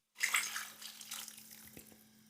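Vegetable broth poured into a soup pot, a sudden splashing gush of liquid that settles into a steady trickle, close and fairly quiet, with a faint background hum and no talk.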